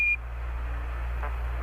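Apollo lunar module 1201 program alarm, a steady electronic tone that sounds briefly at the start and again at the end, over a constant low hum of radio static.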